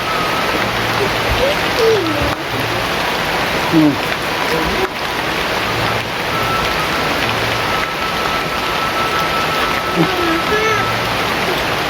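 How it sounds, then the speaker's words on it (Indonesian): Steady heavy rain hisses loudly and continuously, with a low engine drone underneath and a few faint voices. "Cuaca dingin, hujan,"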